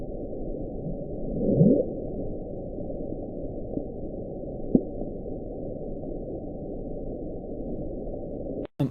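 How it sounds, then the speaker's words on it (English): A low, muffled underwater rumble from an ice quake, with a rising groan early and a sharp crack partway through, recorded beneath a boat. "high-amplitude sound right from under their boat, with then followed by a pretty big ice quake"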